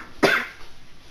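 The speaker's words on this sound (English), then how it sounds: "I had to take a cough because this is just like there's something in my throat" A single sharp cough from a man with something caught in his throat, close and brief, followed by quiet.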